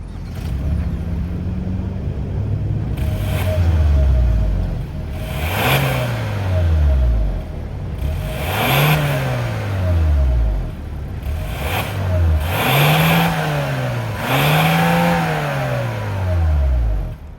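A 2023 Hyundai Santa Fe Calligraphy with a 2.5-liter turbo engine revs repeatedly, about six loud rising-and-falling blips over a steady idle, heard up close with no talking.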